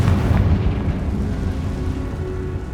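A Confringo explosive spell blasts in the Hogwarts Legacy video game, a heavy, close, booming burst that settles into a sustained low roar and rumble.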